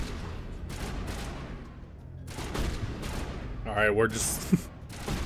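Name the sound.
squadmate firing fully automatic gun in Mass Effect video game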